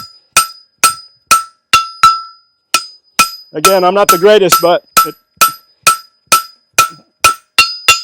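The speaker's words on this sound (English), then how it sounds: "keeping the hammer blows going and the time going and the rhythm" A blacksmith's hammer strikes an anvil while forging in a steady, even rhythm: about a dozen sharp, ringing metallic blows, loud and close. Someone talks briefly in the middle of the series before the strikes resume.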